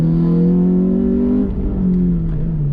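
A Renault Clio 182 race car on a wet hill climb accelerates hard, its engine note rising steadily, then dipping briefly at a gear change before climbing again, loud and close with no voices.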